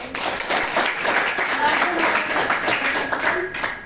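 A classroom of schoolchildren applauds together in a steady, close, moderately loud round of clapping lasting several seconds, with voices mixed in.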